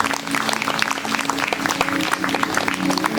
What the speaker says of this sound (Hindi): ताली बजाएं इनके जीवन के लिए।